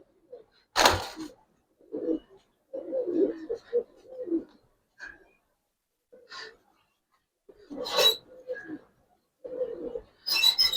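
Military khaki Bagha pigeons coo close by in soft, throaty bursts, several separate calls spaced irregularly, broken by a few sharp rustling flaps or handling noises in an otherwise quiet space.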